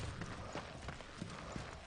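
A horse's hooves clip-clop steadily in the video game Darksiders 2, a quick run of moderately loud hoof beats over a dense noisy background with no talking.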